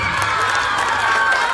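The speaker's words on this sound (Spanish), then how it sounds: "se escuchen los aplausos" Dense crowd noise at a live Paraguayan cumbia concert, a steady wash of cheering, shouting and applause from a large audience, loud and continuous throughout with no clear gaps.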